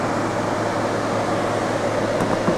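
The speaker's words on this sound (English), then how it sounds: "Aircon there, aircon up there, and this is a switch here for the vents in the roof." Air conditioning in a Toyota Hiace ten-seat minibus blowing through the roof vents, a steady close whooshing hum of fan and airflow, constant and even throughout with no talking.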